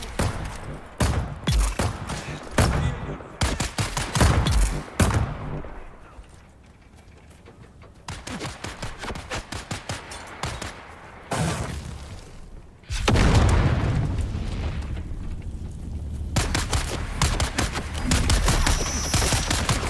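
Turret gunfire in the survival game Dune, loud rapid bursts of shots in repeated volleys, separated by quieter stretches, with a heavy sustained barrage in the final seconds.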